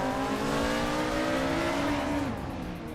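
A 1977 BMW 320i Turbo race car drives at speed, its engine a steady sustained drone with a pitch shift as it lifts off near the end, loud and continuous.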